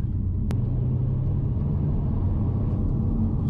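A Vauxhall Astra VXR hot hatch on the move gives off a steady low engine drone and exhaust rumble inside the cabin, with one brief sharp click early on.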